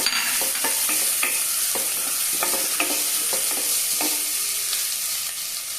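Onion frying in a pan for a green peas stew, with a steady bright sizzle and repeated scraping stir strokes of a spoon against the pan, close up and without talk.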